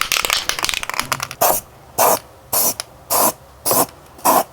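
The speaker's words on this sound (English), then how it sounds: "And now for spray paint." Six short bursts of aerosol spray paint hiss in an even rhythm, close and loud, after a stretch of scraping and rattling, applied as rust protection on metal installation parts.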